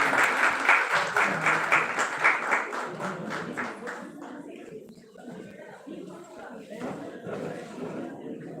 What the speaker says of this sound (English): Everyone, please have a huge round of applause for our teachers for their performance.